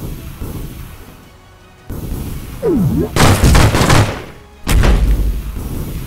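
Cannons fire in the video game Islands of War, several loud, heavy booms and rumbling blasts arriving in clusters, separated by quieter stretches of background noise.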